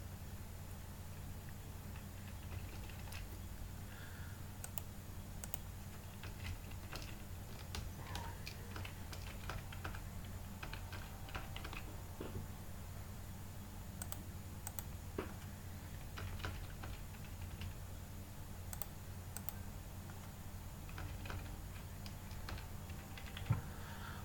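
Quiet keyboard typing in irregular bursts of light clicks over a steady low hum, with no voices.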